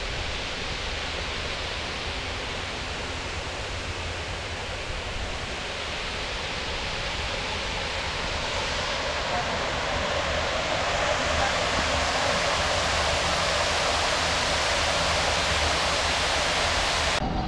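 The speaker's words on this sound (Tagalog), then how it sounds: "Mga tubig pala yan eh." Flowing water at Dubai Expo City sends out a steady, loud rushing hiss, like a fountain or cascade, that keeps going without a break.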